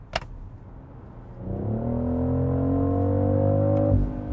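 A 2025 BMW X3 M50 accelerates hard at full throttle in boost mode, its engine note swelling from a low idle into a loud, steadily rising drone that holds for a couple of seconds before cutting off abruptly.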